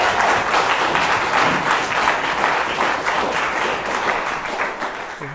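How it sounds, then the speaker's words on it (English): Audience at a 2019 campaign event applauding Mark McDonnell, Stoke South candidate, as he is introduced, a sustained, fairly loud round of many hands clapping that tapers off slightly at the end. "Please give him a warm round of applause."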